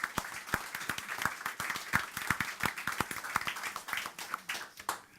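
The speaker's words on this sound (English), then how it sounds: "Round of applause for Robert, ladies and gentlemen." An audience at an economics festival talk claps to welcome a speaker, a moderately loud patter of many hands with distinct sharp claps standing out, building then tapering off near the end.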